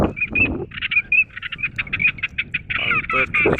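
Wild geese or ducks call overhead during a bird hunt, a rapid run of honking cries, loud and close, with a voice talking over the start and end.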